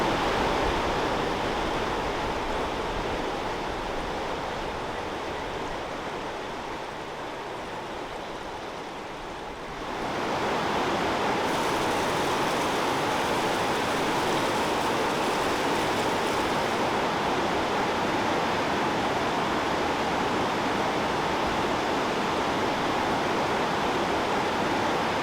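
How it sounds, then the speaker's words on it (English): Water rushing through a glacier ice cave, a continuous broadband roar that swells noticeably louder partway through and then holds steady, close and enveloping, with no voices. "The sounds of the water rushing through the cave sounds like things like breaking."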